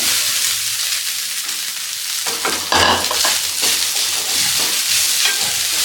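Grated coconut being added to a pan and stirred for modak, heard as quiet scraping and stirring that builds into a louder, steady sizzle and clatter of a spoon against the pan, with no talk.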